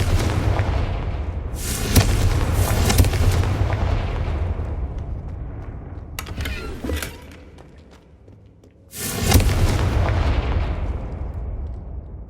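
Confringo blasting spell explosions in Hogwarts Legacy: two heavy booming blasts with rumbling, sizzling decay, the first early and sustained, a quieter crackle mid-way, then a second loud burst after a brief lull, all close and powerful.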